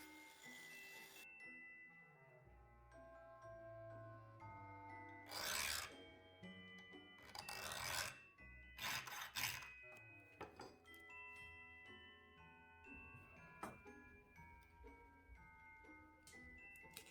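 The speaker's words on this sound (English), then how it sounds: "I cut off the outer parts of the nail, sanded them" Rough rasping bursts of filing on the cut ends of a slingshot's nail frame, several short strokes up close over a background of soft music.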